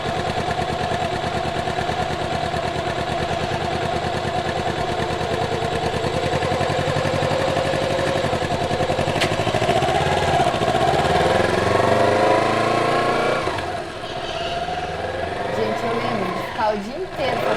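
A motorcycle engine runs steadily and loudly at first, then its pitch rises and falls in several revs toward the end, with a voice talking over it.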